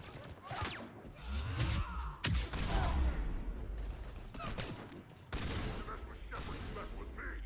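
Shotgun blasts from the video game Mass Effect 3 boom out in several heavy bursts among combat noise and game sounds, with voices talking over parts of the action.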